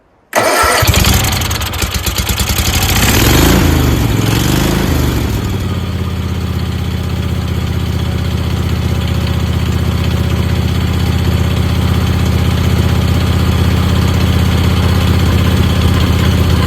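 A small carburettor engine, run with the choke on, sputters and cranks for a couple of seconds, catches, revs, then settles into a loud, steady, close idle that runs on without any voices.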